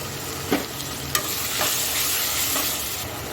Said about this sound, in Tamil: இப்போ நம்ம டொமேட்டோ ஆட் பண்ணிக்கலாம்